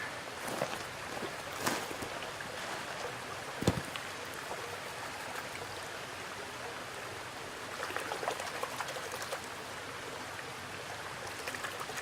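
Cold creek water trickling and splashing as fossil corals are rinsed outdoors, a steady soft wash of flowing water with a few sharp splashes and knocks, fairly faint and without talking.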